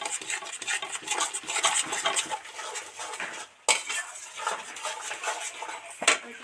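Spice masala for bhola fish curry is stirred in a pan, with repeated close metallic scrapes and clinks of a spoon against the pan, a brief pause, then more stirring and a sharp clank near the end.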